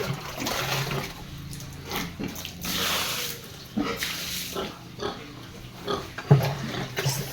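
Pigs on a farm get doused with water on a hot day, with splashing and pouring water mixed with grunts and squeals, close and fairly loud.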